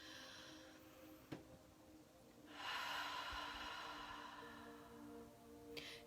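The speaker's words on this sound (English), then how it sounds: "Deep breath in through the nose and a nice big full breath out of your mouth." Slow deep breathing during a guided meditation: a quick sniff through the nose, then a long, soft, airy exhale through the mouth, close and quiet with no talking.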